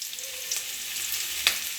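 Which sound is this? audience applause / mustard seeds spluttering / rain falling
mustard seeds spluttering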